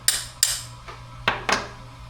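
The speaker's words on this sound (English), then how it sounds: "Let's get the hammer out." A hammer taps on the metal carburetor of a cheap Chinese lawn mower, giving five sharp, clanking strikes at irregular intervals, close and distinct, with no talk.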